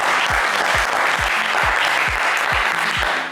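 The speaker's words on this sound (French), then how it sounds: "Est-ce qu'on peut applaudir Marc très très fort, s'il vous plaît" A French television game show studio audience claps loudly and steadily throughout, with regular deep thumping beats pulsing underneath the applause.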